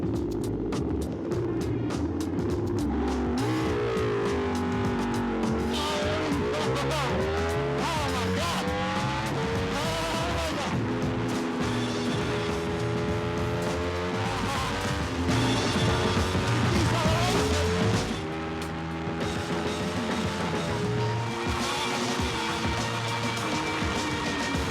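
A 2012-season Ducati racing motorbike laps the Silverstone circuit, its engine screaming loud and close, rising and falling in pitch through repeated gear changes and throttle bursts.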